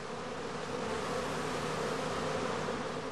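A dense, steady hum of many honeybees massing at the entrance of a straw skep before swarming, a continuous buzzing drone with no pauses, close and fairly loud throughout.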